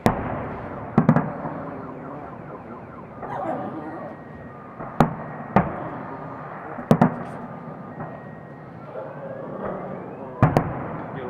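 Festive fireworks salute in Kaluga on 9 May: sharp booming bursts at irregular intervals over a crackling, rumbling bed, with crowd voices talking between the blasts.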